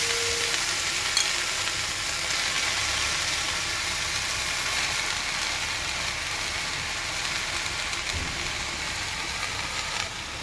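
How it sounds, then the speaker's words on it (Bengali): Chopped leafy greens cook uncovered in a kadai, giving a steady, close sizzle with a faint crackle that runs unbroken the whole time, with no talking over it. "কড়াইয়ের মধ্যে আগে আমরা শাকগুলো একটু ভাপিয়ে নেব"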